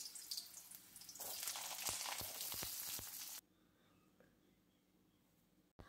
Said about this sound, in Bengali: এবারে আলু টুকরোগুলো ভেজে নেব ওই একই তেলের মধ্যে।